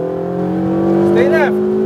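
Loud and close, a supercar at an exotic car track experience in Las Vegas holds full throttle with a steady droning engine note. A voice briefly calls out over it.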